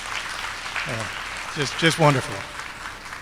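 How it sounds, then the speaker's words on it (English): Warm audience applause at a Diwali celebration forms a continuous clapping bed, with a speaker's voice briefly heard over the crowd. "Can we get another round of applause?"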